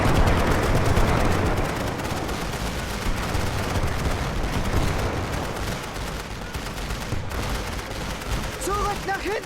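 A dense, continuous crackle of rifle and machine-gun fire rolls through a World War I battle in the video game The Great War: Western Front, loud and sustained throughout, with a voice talking over it.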